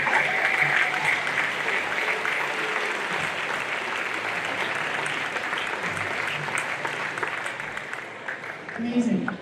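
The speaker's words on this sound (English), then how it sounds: "So can we get a round of applause for the" An audience at a school fall wind symphony and eighth-grade band concert breaks into steady, full applause lasting several seconds before it starts to thin.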